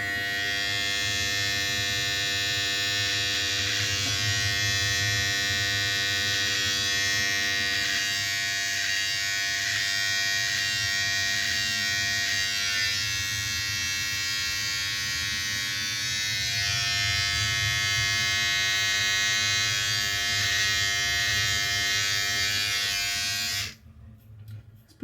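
Electric hair clippers fitted with a 16 mm guard cut hair close to the ear, a loud steady buzz running almost without a break for about 24 seconds before switching off.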